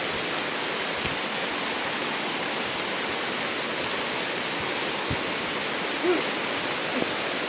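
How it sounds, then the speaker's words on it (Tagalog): Heavy rain pouring down as an even, dense roar that holds steady throughout, loud and close, with no voices over it. "Napakalakas ng ulan to."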